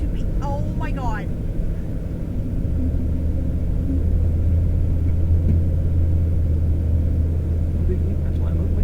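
A truck churns through deep snow during a heavy snowstorm in Moncton, New Brunswick, a loud low engine rumble that deepens and grows steadier midway, heard from inside the cab with a voice speaking early on.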